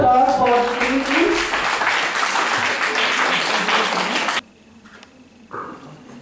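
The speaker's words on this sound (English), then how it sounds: "huge round of applause for JVWU" A room full of people applauding for JVWU at a national moot court competition, loud dense clapping for about four seconds that stops abruptly, followed by a short burst of voices.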